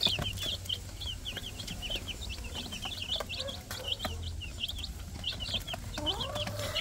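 Rhode Island chicks cheep in a busy chorus of high, quick peeps, near and steady, with faint rustling and a few lower clucks underneath.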